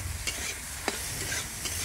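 Ridge gourd fries in a pan on a home stove, a steady close sizzle broken by the occasional scrape and tap of a stirring spatula.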